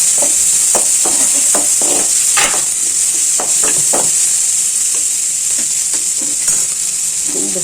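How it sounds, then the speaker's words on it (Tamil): Onions and tomatoes sautéing in a pan for a ridge gourd kuzhambu, a loud constant sizzle broken by repeated scraping stirs and clinks of a spoon against the pan, close up, no talking. "பொரிஞ்ச உடனே வெங்காயமும் தக்காளியும் போட்டுக்கலாம்."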